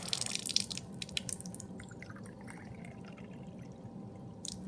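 Tap water runs steadily from a faucet at home, a soft continuous splashing hiss with no voices over it.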